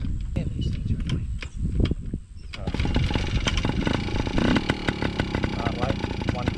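A small dirt bike engine revs and buzzes up close as it sets off for a short spin, loud and continuous with rising and falling throttle, while people talk nearby.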